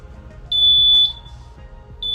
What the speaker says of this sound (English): as this could trigger the oversalt alarm.